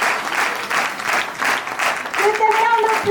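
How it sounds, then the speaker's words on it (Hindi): Audience applause at a team building event, steady pulsing clapping from a room crowd, with a voice talking over the last second. "Give them a round of applause."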